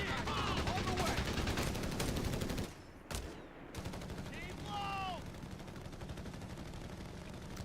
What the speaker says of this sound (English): Yeah, it's really standard MG spam.